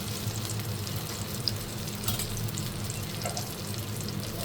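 Eggplant omelette frying in a pan makes a steady, close crackling sizzle that runs throughout, with a few faint clinks and no talk.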